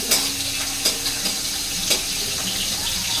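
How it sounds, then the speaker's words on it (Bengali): Oil spatters and sizzles in a pan as leftover rice is fried, a continuous close hiss punctuated by several sharp pops and crackles, with no one talking. "এই তেল চিটকায় দুই পাশে দুই রকম ভয় লাগে আমার।"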